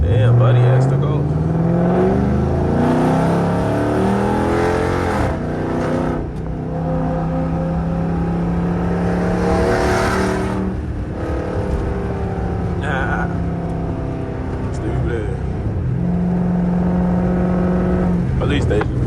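Loud 400+ hp Dodge Charger R/T engine heard from inside while driving, a continuous deep drone that rises and falls through several revving pulls, with someone talking over it.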